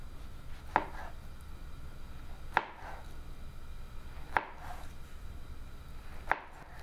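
A knife slices bananas on the diagonal, making four evenly spaced, crisp taps against a cutting board over a faint, quiet background.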